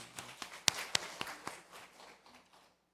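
A small church congregation gives a brief round of applause during a Sunday afternoon worship service, scattered claps with a few sharp close ones, soft overall and fading out within a few seconds.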